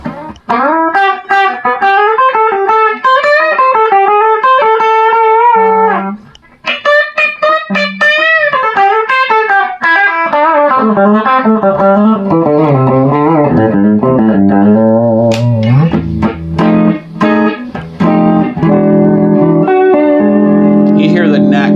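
A Fender Telecaster electric guitar played through a straight tweed Fender-type amp rings out in loud, sustained chords and melodic runs with a slight edge of distortion, continuing without pause for over twenty seconds.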